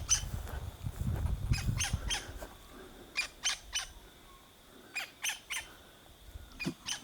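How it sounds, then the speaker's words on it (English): Several sharp squawking bird calls ring out in spaced bursts, some doubled, around an abandoned old farmhouse in open country, moderately close against a quiet background. "Not sure what sort of bird that is."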